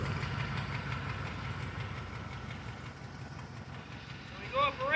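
A car engine runs steadily while the vehicle is driven up a ramp for an oil change, giving a continuous low rumble that rises into a few louder bursts near the end.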